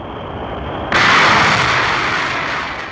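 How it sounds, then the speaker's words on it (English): An escape rocket igniting to pull a Mercury capsule away from an Atlas booster, a sudden loud roaring blast that cuts in over a steady hiss and then holds as a broad, slowly fading roar. "The escape rocket takes the capsule away from the booster."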